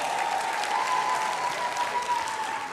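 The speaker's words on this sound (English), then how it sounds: "please give her a round of applause so she can hear us in the plane." A large audience at a grand finale event giving a sustained, loud round of applause, dense continuous clapping with crowd noise throughout.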